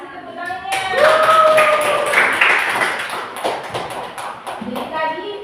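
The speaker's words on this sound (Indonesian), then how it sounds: "kasih tepuk tangannya" A short round of applause from a classroom of children, bright scattered claps building and then thinning out, with some voices mixed in.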